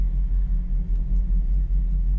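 A cammed classic Mopar V8 idling close by, with a loud, lumpy low rumble and an uneven, loping pulse that repeats steadily.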